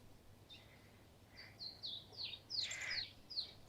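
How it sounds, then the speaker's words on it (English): Several birds chirp in the morning around a stone-built condominium complex, short high twittering calls coming in scattered bursts, fairly faint and distant over quiet background hiss. "We woke to the sound of birds humming."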